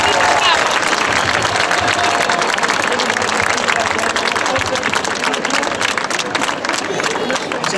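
An audience applauds loudly and continuously at the Racing Ferrol promotion celebration, a dense close wash of clapping with crowd cheering mixed in, sustained for the whole stretch.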